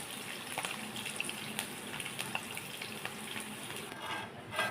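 Ingredients for village-style mint chutney sauté in a pan, giving a soft, steady frying hiss with scattered light stirring scrapes, fairly quiet and close, without any talking.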